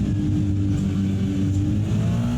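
A GT3 race car engine at the Nürburgring, heard onboard, drones loud and close with a steady, deep mechanical roar and a faint shifting of pitch, with no voices over it.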